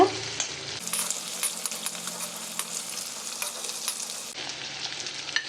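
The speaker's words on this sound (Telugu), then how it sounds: "నేను ఇక్కడ అల్లం వెల్లుల్లి కొంచెం దంచేసి వేస్తున్నాను. ఇవి కొంచెం వేగాక" Crushed ginger and garlic sizzle and fry in a kadhai with a steady crackle, broken by occasional sharp pops and light stirring scrapes.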